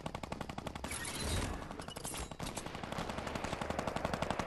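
Rapid bursts of gunfire in the video game Fortnite, including sniper shots, crackle in a dense, continuous string of sharp reports with brief lulls, moderately loud and without talk.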